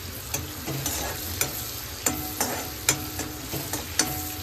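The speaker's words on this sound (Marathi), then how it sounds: "मग ह्या बटरमध्ये आता थोडेसे शेंगदाणे टाकायचे फॉर द ठेचा मॅगी." Peanuts fry in butter for thecha Maggi with a soft steady sizzle, under a spoon that stirs and scrapes the pan in regular, evenly spaced strokes. The sound is close, with no voices.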